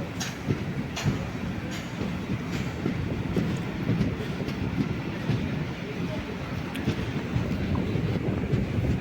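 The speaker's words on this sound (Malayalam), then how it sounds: "അങ്ങനെ ചേർത്തല സ്റ്റേഷനിൽ എത്തിയിട്ടുണ്ട്" A train pulls into Cherthala railway station on the route to Ernakulam, a steady, close rumble and clatter of rolling wagons that continues without a break through the whole stretch.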